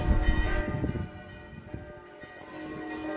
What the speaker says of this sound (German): wir werden wieder mit Glockengeläut begrüßt